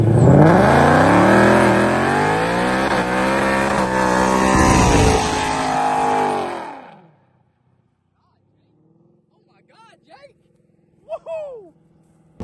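A tuned Whipple-supercharged car running on E85 fuel accelerates hard and close, its engine note climbing for about six seconds before cutting abruptly to near silence, followed by a few faint brief sounds.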